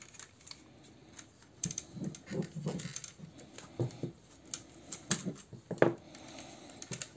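Plastic parts of a Toyworld Allocator toy figure being folded and clicked into place, a string of small, close, irregular clicks and taps with short pauses between them.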